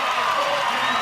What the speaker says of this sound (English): the crowd enjoying every minute of it